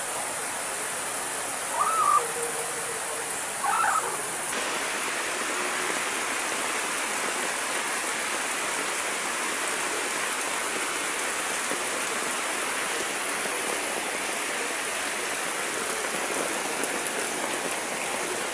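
Heavy rain pours down steadily in a flood, a dense, constant hiss of water that fills the whole stretch, with a couple of faint brief sounds near the start.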